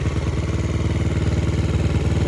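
Yamaha TTR 90 dirt bike engine running nearby, a loud, even, rapid low thumping throb with steady rhythm and no talking.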